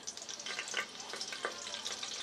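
Cloves and cinnamon sizzle in hot oil for tomato rice, a dense, crackling fry with small popping bursts throughout, close and steady, no voices.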